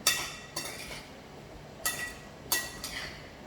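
A vegan mixed salad being tossed in a bowl gives off a few light clinks and scrapes of utensils against the dish, spaced irregularly and fairly quiet.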